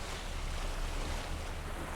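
A short stretch of a boat moving over foggy open water in The Witcher 3, with constant waves and wind blending into a smooth, muted rush at low volume.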